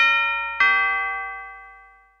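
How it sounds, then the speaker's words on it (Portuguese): A two-tone doorbell chime, a ding followed by a dong, clear and ringing with a long sustained decay in an otherwise quiet space. "Campainha."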